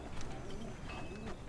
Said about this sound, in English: Can everyone hear my bird?